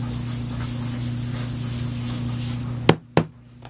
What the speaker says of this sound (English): Just rub it down. Make sure it stays nice and firm on the board here.